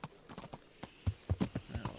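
A horse's hooves clip-clop in the medieval game Kingdom Come: Deliverance. The hoofbeats start sparse and soft, then grow closer and quicken into a steady rhythmic gait.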